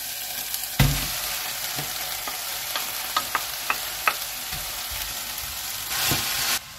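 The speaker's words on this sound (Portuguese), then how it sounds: "enquanto a carne está refogando aqui junto com cebola, alho e cenoura" Ground beef sautés with onion, garlic and carrot in a pan, giving a steady close sizzle broken by a series of sharp spoon taps and scrapes and a louder stirring burst near the end, with no talking.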